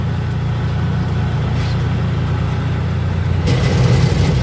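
A Bajaj Maxima Z engine runs steadily at a low, even idle-like rumble, close and continuous, with a slight rise in intensity near the end and no speech.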